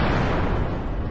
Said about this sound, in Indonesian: terjadilah sebuah ledakan yang begitu realistis.